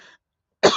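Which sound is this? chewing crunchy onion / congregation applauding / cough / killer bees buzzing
cough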